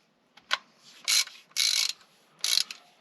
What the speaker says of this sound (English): I'm going to put a wrench in that crank pulley and see if we get a little bit of movement here.